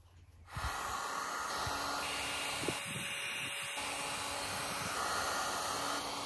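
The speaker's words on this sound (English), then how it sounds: "I'm gonna use the heat gun first to give a surface dry" A heat gun blasts a steady, close, loud stream of hot air over a wooden boat rudder, starting abruptly and holding a constant whooshing roar with faint handling knocks in the middle.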